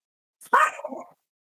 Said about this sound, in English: the dog in the background is Batman, which is Survey's dog